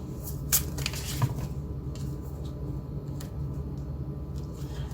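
Soft riffling and flicking of tarot cards being shuffled by hand, with a few sharper snaps, close and quiet.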